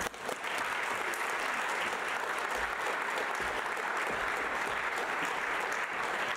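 Sustained applause from an audience welcoming a professor to the stage at a Northeastern University event honoring Nelson Mandela, a dense steady roar of clapping with no talk over it.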